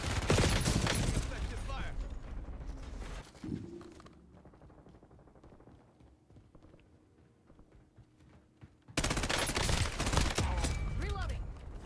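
Gunfire in the video game Call of Duty Warzone, with loud rapid bursts at the start and again near the end, quieter game sounds in between.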